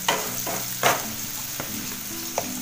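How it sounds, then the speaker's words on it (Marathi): Diced potatoes sautéing in oil for a Konkani-style prawn masala, a steady soft sizzle broken by a few sharp spoon-against-pan clinks, close and alone. "म्हणून जरा तेलामध्ये असे परतून घेते."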